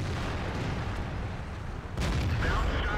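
The gun of a T29 tank fires in a tank video game. A single heavy boom with a rumbling tail cuts in around the two-second mark over dense battle ambience, with a commentator talking.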